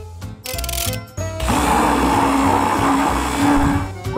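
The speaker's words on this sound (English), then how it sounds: "Now ice cream and put it in the blender." A kitchen blender whirs through ice cream, Nutella and milk, starting with a couple of short pulses before settling into a loud, continuous grinding drone close by, with no talking.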